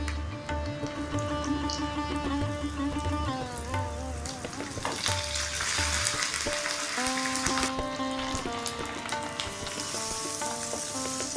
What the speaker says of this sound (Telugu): తాలింపు పెట్టుకుందాం.